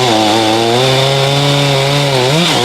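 A chainsaw roars steadily and loudly throughout while cutting a large Christmas tree, the city's main fir, with the engine pitch dipping briefly near the end under load.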